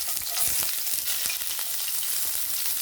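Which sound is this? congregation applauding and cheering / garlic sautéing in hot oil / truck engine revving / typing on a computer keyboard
garlic sautéing in hot oil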